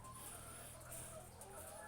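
Soft clucking from several chickens, quiet and a little distant, with faint chirps layered over a low background hum.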